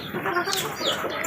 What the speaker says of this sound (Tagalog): yung aking pang ibang manok na talisay at yung inahin.